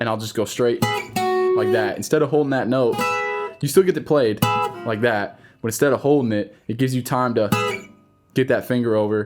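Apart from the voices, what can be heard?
No everyday noise stands out behind the speech.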